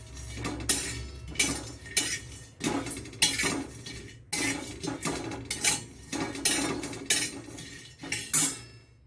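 Betel nut pieces dry-roasting in a pan while being stirred, giving a steady run of metallic scraping and clinking strokes in bursts across the whole stretch, close and fairly loud, with no talking.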